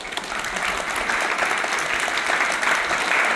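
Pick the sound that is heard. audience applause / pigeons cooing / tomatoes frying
audience applause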